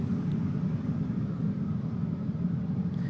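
An Embraer 190 airliner just arrived at Amsterdam Schiphol gives off a low, steady engine rumble at a distance, a faint continuous drone with no talk over it.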